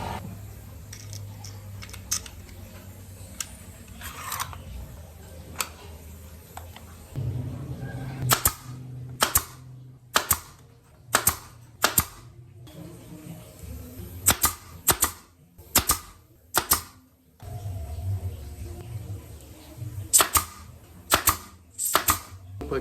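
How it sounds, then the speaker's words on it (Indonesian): Pneumatic nail gun driving 3 cm F30 nails into a wooden bird cage, heard as a series of sharp, loud bangs in quick clusters over a faint background hum, with no talking. "Paku yang saya menggunakan paku tembak ya, dengan ukuran itu F30 atau 3 cm ya."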